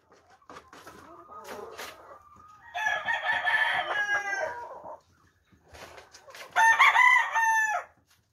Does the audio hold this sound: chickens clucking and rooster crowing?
yes